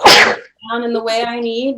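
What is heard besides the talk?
sneeze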